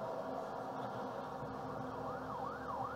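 A wailing ambulance siren in the video game The Last of Us sweeps up and down over a steady rumble of traffic or engine noise, continuous and fairly loud throughout.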